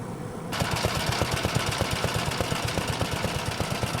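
A two-stroke engine on a vintage 20th-century walk-behind tractor starts up and runs with a rapid, regular putter, its steady pulsing exhaust beats close and fairly loud with no talk over it.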